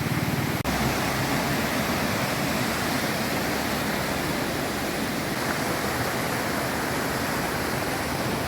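The Chaliyar river after a landslide, rushing in a dense, unbroken roar of flowing water that holds steady and loud throughout, with no voices.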